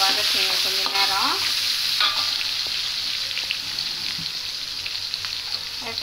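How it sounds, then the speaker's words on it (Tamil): Onion sautéing in oil in a pan for a vegetarian dalcha, giving a loud, steady sizzle with scraping stirs near the start that fade into continuous frying. "ஒரு வெங்காயம் சேர்க்குறேன். வச்சு நல்லா எண்ணெயில் வதக்குங்க கொஞ்சம் நேரம்"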